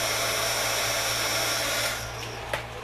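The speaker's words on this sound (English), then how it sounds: "So I get my handy dandy heat gun again to dry the paint off." A heat gun blows steadily to dry paint on a handmade doll, a loud continuous whooshing hum that eases slightly near the end, with a small click.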